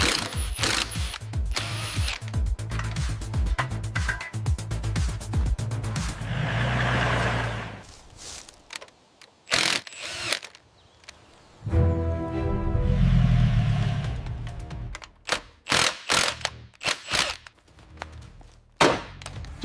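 Ratchet wrench clicking and clanking on seized engine bolts of a Mercedes G63 AMG G-Wagon during restoration, loud uneven bursts of clicks and metal knocks with short pauses and a longer scraping rumble midway.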